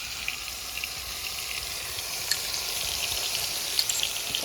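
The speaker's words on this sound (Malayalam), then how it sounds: "ഇതിൻ്റെ കൂടെ തന്നെ വെളുത്തുള്ളിയും പച്ചമുളകും ഇഞ്ചിയും കൂടെ നമുക്ക് ഇട്ട് കൊടുത്തേക്കാം ആവശ്യത്തിനുള്ള ശകലം ഉപ്പ് കൂടി ഇട്ട് കൊടുത്താൽ വഴലാൻ വേണ്ടി" Garlic, green chili and ginger frying with a pinch of salt for mutton kuruma, a steady soft sizzle with faint crackles, close by and without talk.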